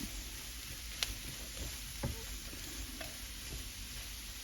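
Leftover pulled pork and coleslaw frying in a pan give a soft, steady sizzle, with a few faint ticks and clinks from stirring and no talk.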